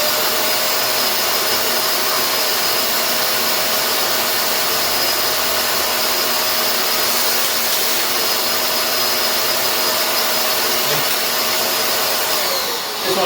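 Shark MessMaster handheld vacuum running continuously with its hose stretched out for an airflow test, a loud, steady, unbroken whine from start to finish that winds down slightly at the very end.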